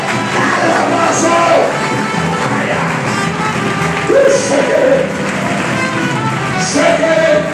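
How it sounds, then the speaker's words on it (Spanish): Audience applause fills a church gathering in Puerto Padre, Cuba, a steady, dense clapping texture that holds throughout with crowd voices and calls mixed in. "Dale un aplauso a Jesucristo."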